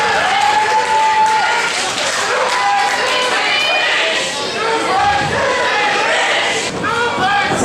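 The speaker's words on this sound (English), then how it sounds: "The crowd calling for more suplexes." Wrestling crowd at a W.O.W. independent show on Staten Island cheers loudly and chants for suplexes, a dense, sustained roar of voices with whoops and shouts throughout.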